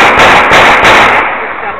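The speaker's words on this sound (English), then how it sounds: "heard all the gunshots" On New Year's Eve in Flint, several loud, sharp gunshots ring out in quick succession, about four evenly spaced blasts, followed by a rumbling fade.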